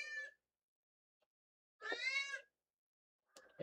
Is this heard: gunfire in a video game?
no